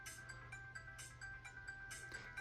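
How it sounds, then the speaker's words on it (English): Polyphonic ringtone playing from a Motorola flip phone, a bright repeating electronic melody with a steady sustained tone, close and clear with no talking. "Let's look at some ringtones."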